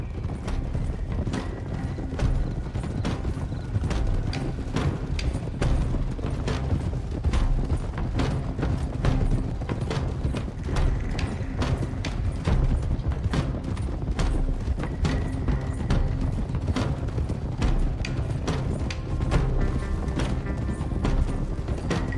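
A group of horses ridden together in Red Dead Redemption 2, their hooves clip-clopping in a steady, overlapping rhythm, close and continuous, with faint mechanical rattles underneath.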